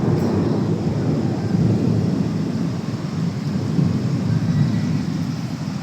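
Heavy rain pours steadily with a low, rumbling roar underneath, loud and continuous throughout without any voices.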